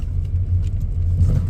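Low rumbling road noise and engine hum of a car pulling away from a cruise port, heard from inside the vehicle, steady and fairly loud with slight swells, no talking.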